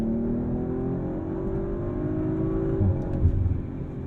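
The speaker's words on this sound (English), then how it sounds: "I do want more from that exhaust system." A 2022 Audi RS5 Sportback's engine and exhaust under manual paddle shifting, heard from inside as a steady, moderately loud droning hum with a slight rise near the end.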